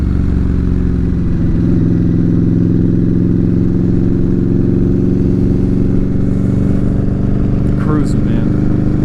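A motorcycle cruises along with a steady, loud, low engine drone and wind rush, constant throughout, with a brief clatter near the end.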